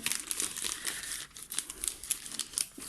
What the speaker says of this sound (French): Je vais vous en déballer quelques-uns.